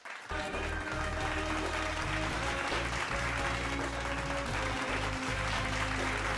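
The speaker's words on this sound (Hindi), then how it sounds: "जोरदार तालियों के साथ उनका स्वागत कीजिए" A studio audience claps steadily and loudly in a television talk-show studio to welcome a guest who practices Rajyoga meditation, sustained applause with no break.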